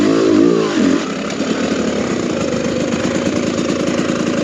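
A 2022 TM EN300 FI motorcycle engine lugs in third gear at low revs. It gives a close, loud, throbbing rumble that settles into a steady pulsing drone.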